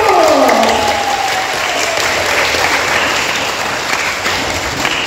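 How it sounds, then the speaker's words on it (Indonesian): A Sunday school congregation applauds during an Easter service, a loud, full burst of many hands clapping at once that holds steady, with a falling tonal sound at the very start. "Tepuk tangan lagi buat Tuhan Yesus"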